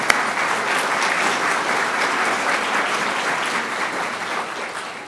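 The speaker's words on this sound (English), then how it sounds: "so big round of applause for our ADRC staff." An audience at an Alzheimer's disease research event applauds its staff. Dense, steady clapping fills the whole stretch at a fairly loud level without letting up.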